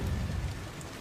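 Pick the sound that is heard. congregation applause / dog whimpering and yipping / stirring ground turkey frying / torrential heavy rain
torrential heavy rain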